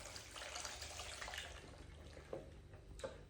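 Soaked sultanas are drained of their syrup into a sink, a faint running trickle of liquid with a few soft drips and splashes near the end, with no voices.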